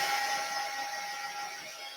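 A heat tool switched on for crafting wooden Christmas ornaments with baking soda snow, warming up with a steady airy hiss and a faint whine throughout, moderately quiet and without voices.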